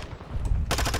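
Rapid automatic gunfire from the video game Call of Duty Modern Warfare 2 bursts in, first muffled and then loud and close in a quick stuttering rhythm over about a second.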